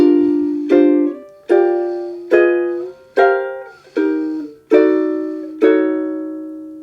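Ukulele strumming a jazz chord-melody intro, eight rich chords plucked one after another at an even, unhurried pace, each ringing and decaying before the next, played solo without talk.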